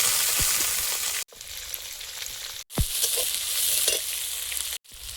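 Panch phoron spices sizzle and crackle loudly in hot oil in a pan as fish curry is started, a steady dense frying hiss broken by a few brief silent gaps, with no talking.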